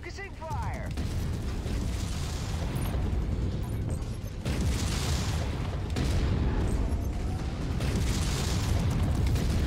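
Mech weapons fire in MechWarrior 5 with dense, continuous rumbling blasts and explosions. The loud, heavy roar surges in waves with brief metallic clanks on top.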